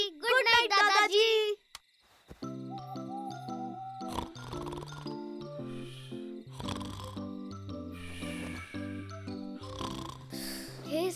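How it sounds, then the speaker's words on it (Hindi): A cartoon grandfather snores in exaggerated, wavering snorts, followed by a brief gap and then a soft, twinkling night-time music cue with occasional chirping effects over it. "अरे कहां, दादाजी इतने खर्राटे जो मार रहे हैं"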